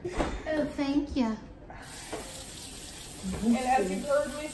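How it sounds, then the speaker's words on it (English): Running tap water splashes steadily over pasta being rinsed in a sink while people talk over it, the hiss of the stream continuing beneath their voices. "I do believe in rinsing my pasta"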